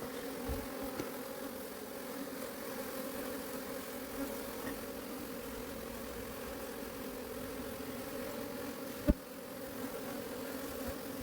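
Honeybee colony buzzing steadily near an open hive during a search for the queen, a dense close hum throughout with one brief knock near the end.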